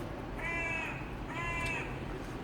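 Two harsh caws from a crow, fairly close, spaced about a second apart over faint outdoor background noise.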